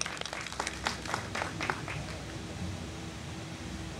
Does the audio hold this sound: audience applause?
yes